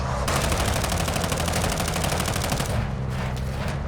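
Sniper and automatic gunfire in Call of Duty Warzone 2.0 DMZ on the Al Mazrah map: a dense, rapid string of loud shots for most of the stretch, easing off briefly near the end, with no talk.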